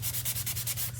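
Quick rhythmic strokes of sanding across a painted frog figure, close and fairly quiet, rubbing back and forth about five times in a second with a low steady hum beneath.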